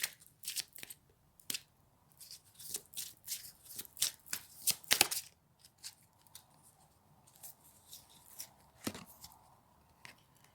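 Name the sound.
shuffling and drawing tarot cards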